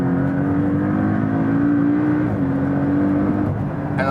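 Porsche 718 Cayman with Sport exhaust in Sport Plus mode accelerating hard on a racetrack: a loud, continuous engine drone climbing in pitch, with a brief shift midway before pulling on again.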